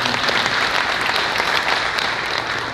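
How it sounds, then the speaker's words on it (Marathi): An audience in a hall applauding a guest, dense continuous clapping from many hands, loud and sustained throughout. "परत एकदा जोशी सरांसाठी आपण टाळ्या वाजवूया."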